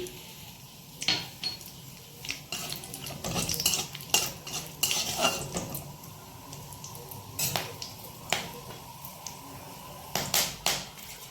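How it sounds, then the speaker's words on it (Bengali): Bay leaves, cardamom, cloves and cinnamon frying in melted ghee in a pan, heard as irregular spoon clinks and scrapes against the metal over a soft, steady sizzle, close by with no talking. "তার মধ্যে দেবো দুটো তেজপাতা আর এলাচ, লবঙ্গ আর দারচিনি।"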